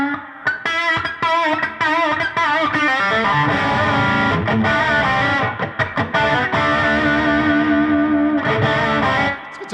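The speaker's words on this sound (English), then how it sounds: "Guitar sounds" An Eric Johnson Thinline Stratocaster electric guitar played through distortion and chorus-style effects, loud sustained chords and notes ringing continuously with a few brief gaps, no talking.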